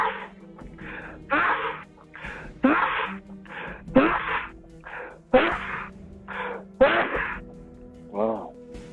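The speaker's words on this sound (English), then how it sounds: "Weirdly enough, that's a normal amount of sneezes for me." One person sneezes again and again, about nine forceful bursts in uneven succession close to the mic, with gasping intakes between them and a final wheezy, moaning breath.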